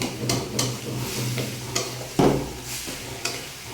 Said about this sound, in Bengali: একদম সমস্ত শাক মিশিয়ে দেব। শাকটা যত এরকম করা হবে, শাকটা খেতে তত ভালো।